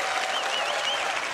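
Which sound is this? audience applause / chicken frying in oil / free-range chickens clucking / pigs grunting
audience applause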